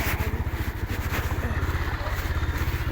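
A motorcycle on a narrow, muddy road runs close by with a steady, pulsing low engine throb that holds even for the whole few seconds, loud and near, with faint talk in the background.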